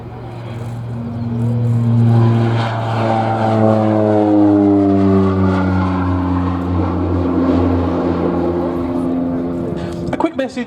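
A North American OV-10B Bronco turboprop rolls for take-off at the Abingdon 2023 air show, its loud propeller drone rising steadily in pitch and swelling close by, with no talk over it.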